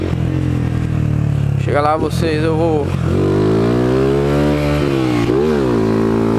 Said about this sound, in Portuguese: Minha moto tem uma Fan 150.